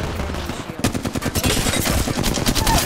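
Rapid automatic gunfire in a shooter video game, a quiet lead-in giving way to loud, dense bursts of shots with a rattling rhythm that continues to the end.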